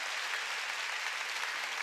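A church congregation at a Wednesday worship service claps together, a dense, even wash of applause sustained without a break, close and full, with no voices over it.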